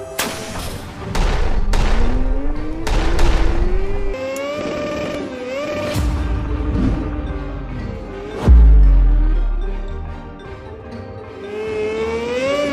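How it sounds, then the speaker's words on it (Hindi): Several deep booming blasts go off in succession, the last one loudest and closest, set against a musical score with rumbling low end. "जग्गी मेहुल पे बॉम्ब्स छोड़ता है।"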